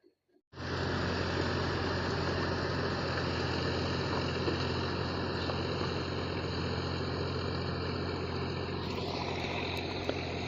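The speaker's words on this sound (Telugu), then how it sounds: "ఇప్పుడు ఆ ట్రాక్టర్ బ్లేడ్ వేసుకొని దాంతో లేవల్ చేస్తున్నాం" A tractor engine runs steadily and loudly while it drags a blade to level a farm field, a continuous close drone that holds almost unchanged for the whole stretch, with no talk over it.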